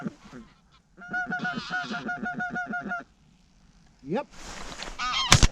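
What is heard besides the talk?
geese honking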